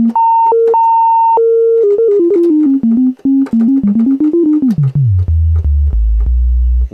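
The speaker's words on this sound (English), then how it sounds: "use the resonating filter as a sine wave oscillator" A Roland SH-09 synthesizer's resonating filter works as a sine wave oscillator, giving loud, pure stepped tones that jump between pitches, wobble downward and settle into deep sustained bass notes.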